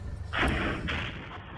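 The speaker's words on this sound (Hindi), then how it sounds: "ये धमाके काफ़ी तेज़ होते हैं खासकर रात में" Two heavy, booming blasts from Russian shelling in Mykolaiv, Ukraine sound a moment apart, the first louder, each with a rumbling roar that fades out.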